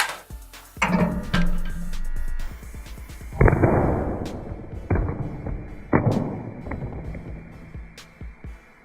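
A Galaxy S20 Ultra and an iPhone 11 Pro Max land face down on a hard surface in a drop test, producing several sharp, loud impact cracks with ringing clatter over a breezy background.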